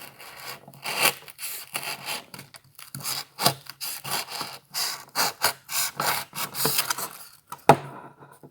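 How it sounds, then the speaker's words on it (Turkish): Repeated scratchy rasping strokes of a cutter blade shaving the surface of styrofoam, close and fairly loud, in an uneven back-and-forth rhythm. "Şimdi straforun yüzeyini alacağım."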